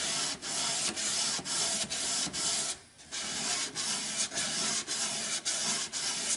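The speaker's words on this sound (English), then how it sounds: "Just a couple swipes, about a half dozen swipes, and that's all you need to do on these top corners." Sandpaper rubs by hand across the top corners of a small wooden chest lid in about a dozen even, rhythmic swipes, close and dry, with one short pause partway through.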